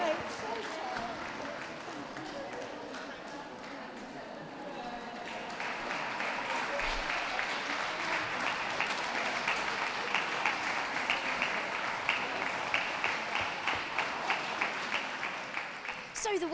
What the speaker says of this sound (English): Can we give a round of applause to those who are leaving the ring